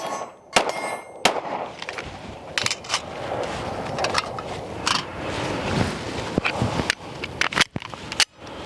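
Sharp, loud shots from a Springfield Armory Hellcat Pro Comp OSP pistol at a range, several cracks spaced irregularly with a clanging ring and some outdoor background noise between them.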